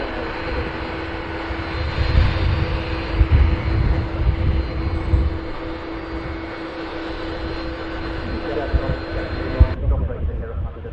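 An Aer Lingus airliner departs Manchester Airport, bound for Bridgetown: a steady, distant jet-engine roar with a low rumble, holding even throughout, and the sound drops off abruptly near the end.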